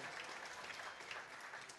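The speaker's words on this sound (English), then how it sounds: "you're going to see a round of applause for every point that Anna Spence or every side out she gets here" Spectators at a racquetball world championship match clap briefly after a point, a soft, distant patter of applause lasting under two seconds.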